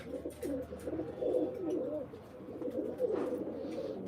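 Pigeons at a pigeon-keeping loft coo in soft, repeated low rolling calls, fairly close, continuing throughout with faint background noise.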